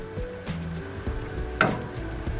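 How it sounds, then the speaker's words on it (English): Coconut milk boils in a pot for salt mackerel run down, a steady bubbling sizzle with soft clinks and a brief sharp utensil knock partway through. "our coconut milk has been boiling for around 10 minutes"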